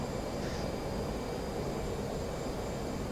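An F-18 jet engine in a flight simulator game roars as a steady, broadband rumble with a constant airy hiss, uniform and unbroken throughout.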